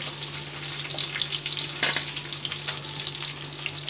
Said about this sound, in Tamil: இப்போ இந்த வெங்காயம் வந்து வதங்கட்டும்.